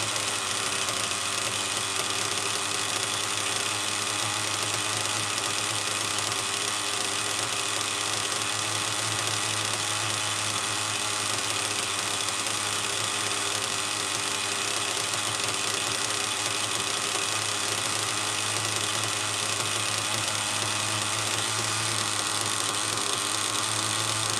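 A small nitro RC car engine runs steadily on its first tank of fuel, a continuous close buzzing idle with a knocking, vibrating edge that holds at an even level throughout, with no talk.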